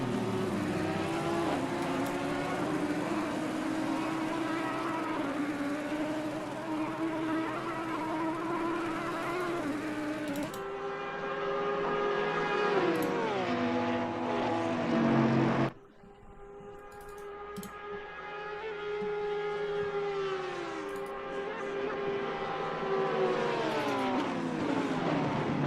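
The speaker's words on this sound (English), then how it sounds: "And big train forming here now." Simulated racing cars running nose to tail in a train at Mount Panorama in a sim racing game, a layered whine of several engines revving and shifting through gears, rising and falling in pitch, loud and continuous with sudden cuts.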